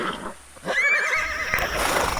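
A horse whinnies loudly and close, a rising then wavering neigh lasting over a second, over a low rumbling background.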